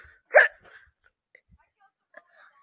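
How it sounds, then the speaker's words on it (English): A single sharp hiccup lands early, followed by a few faint vocal noises and near silence, recorded close to the mic during a session playing Wings.io. "and then I burp, and then I hiccuped"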